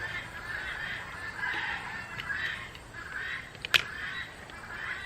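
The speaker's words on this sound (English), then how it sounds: "Do you guys hear that in the background? Those are our guineas." Guinea fowl call in the background outdoors, a faint, repeated raspy honking chatter that comes and goes in bursts, with one sharp snap partway through.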